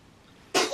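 A single sharp, explosive sneeze erupts after a quiet moment, loud and close, fading quickly with a short breathy tail.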